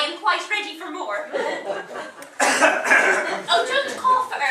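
A cough on stage during an amateur drama society's performance of The Importance of Being Earnest, short and close, set among actors' speech and soft chuckles from the audience.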